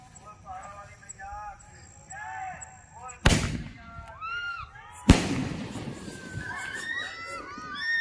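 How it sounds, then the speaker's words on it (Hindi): Firecracker bombs set off outdoors during a Dussehra celebration, heard as two sharp, loud blasts a couple of seconds apart, each trailing off into a rumbling echo, with voices around them. "काफी मुझे डर लग रहा है पड़ाका को बम छुटाने के लिए"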